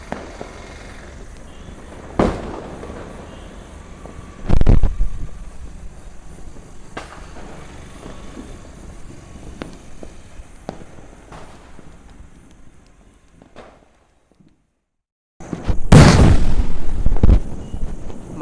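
Diwali firecrackers burst at a distance, with several sharp booms spaced apart over a quiet night background, then a louder, longer crackling burst near the end.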